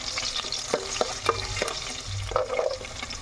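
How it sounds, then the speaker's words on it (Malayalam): Chopped green chillies sizzle in hot oil with popped mustard and fenugreek seeds in a bronze uruli while a Kerala bamboo pickle is made, giving a steady close crackle with occasional stirring scrapes. "പച്ചമുളക് അരിഞ്ഞത് ചേർക്കുക."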